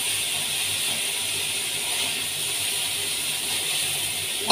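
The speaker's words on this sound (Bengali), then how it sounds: "কপিগুলো খুব সুন্দর করে ভাজতে হবে" Cauliflower pieces frying in a pan while being browned, giving a steady, close hiss and sizzle that runs evenly throughout with no talking.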